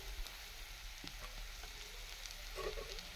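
Vegetables cook in a pan with a soft, steady frying hiss, quiet and continuous, with a few faint clicks over a low background hum.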